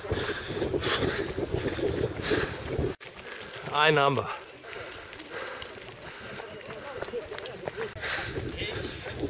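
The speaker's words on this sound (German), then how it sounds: "Ganz schön windig." Strong gusting wind buffets the microphone during a rural countryside marathon, a steady rough roar throughout with a sudden cut and brief tonal squeak midway, while a runner speaks briefly.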